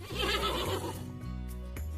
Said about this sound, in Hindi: हॉर्सेस यानी घोड़े